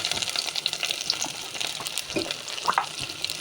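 Chopped tomatoes dropped into hot oil with onions give a steady, close crackling sizzle, with brief bursts of spitting and stirring over the constant fry.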